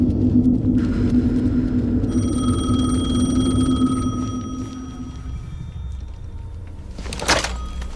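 A telephone rings in the horror video game Alan Wake 2, with repeated bell-like tones over a low, dark rumbling ambience that fades near the end.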